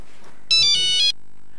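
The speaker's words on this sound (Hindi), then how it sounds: "बज रहा है।" A single short burst of an electronic telephone ringtone, bright and high-pitched, cuts in sharply and stops after about half a second, over a quiet room background.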